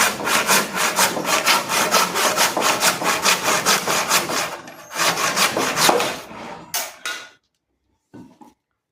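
A hand saw rasps through Burma teak wood pieces being cut for a door, in quick, even back-and-forth strokes, close and loud, then pausing and trailing off into a few light knocks.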